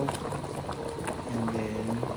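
Kare kare stew simmering in a pot, a continuous bubbling and popping boil with a low background hum, close and steady throughout.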